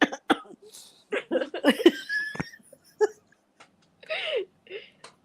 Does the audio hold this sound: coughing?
yes